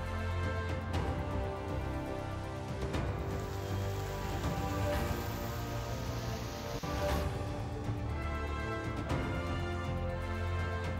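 Heavy rain hisses steadily and loudly on a surface, with a tonal musical hum underneath throughout.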